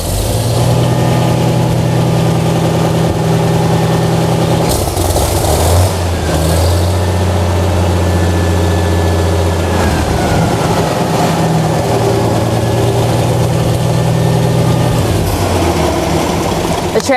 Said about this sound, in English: So everything is intact to the point that we can start the tractor.